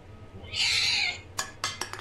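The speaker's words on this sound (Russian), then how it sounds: "Кошка!" A cat meows in the video game Blood Crossroad, one drawn-out, moderately loud cry followed by a few short clattering knocks, with no talking.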